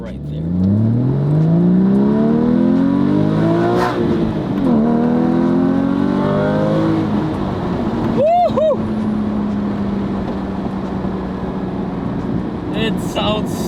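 A Porsche Cayman GT4's 3.8-liter six-cylinder engine revs up through the gears, pitch climbing and dropping with each shift, then settles into a steady cruising hum; someone talks briefly.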